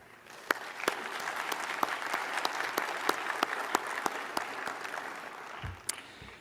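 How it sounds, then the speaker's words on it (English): A seated audience at a civil society forum opening ceremony claps in a steady round of applause with distinct sharp hand claps over a broad wash, fading out near the end. "ask for a round of applause"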